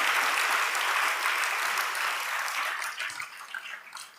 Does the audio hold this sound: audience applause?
yes